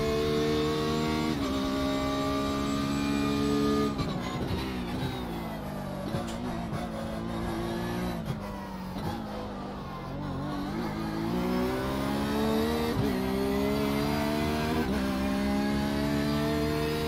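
A Porsche race car engine in the iRacing sim howls loudly and steadily throughout, with rising and falling revs as it shifts, brakes and accelerates on track, no talk over it.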